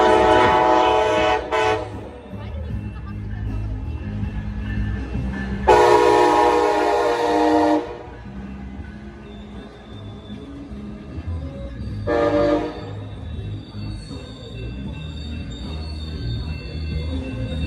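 A Coaster commuter train passes near Oceanside on the Southern California coast line, rumbling steadily and loudly while its horn blasts three times: a short burst, a long blast, then another short one.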